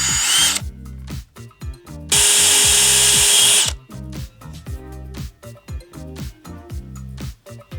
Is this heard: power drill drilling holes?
yes